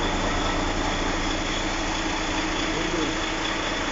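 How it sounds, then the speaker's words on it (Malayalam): A truck engine, freshly repaired in a workshop, idles steadily and loudly nearby, a constant rumbling drone with no breaks. "എൻജിൻ പണി കഴിഞ്ഞ വണ്ടി 2 ദിവസം തുടർച്ചയായിട്ട് സ്റ്റാർട്ടിങ്ങിലിടണം"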